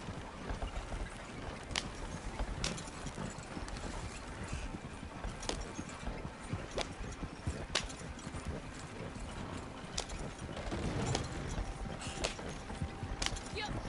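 Horse hooves clip-clop in a steady rhythm in the Red Dead Redemption 2 video game, moderately close with a faint background bed of ambient game sound.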